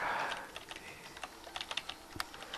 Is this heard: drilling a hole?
no